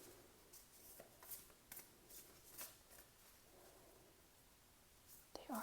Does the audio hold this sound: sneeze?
no